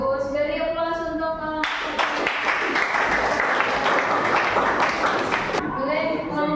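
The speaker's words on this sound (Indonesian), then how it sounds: "Beri aplaus untuk" A classroom group claps for a few seconds in a full burst of applause that cuts in sharply and stops abruptly, with a voice talking just before and after.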